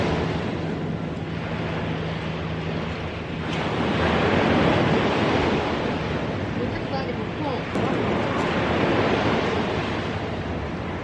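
Ocean waves roll and wash continuously on Padori beach in Taean, with strong wind buffeting the microphone in a loud, steady roar.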